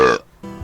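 A woman's loud, deep belch from a played-back recording, one long throaty burst that cuts off, followed by a brief lower rumble after a short gap.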